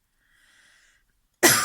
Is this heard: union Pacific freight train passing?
no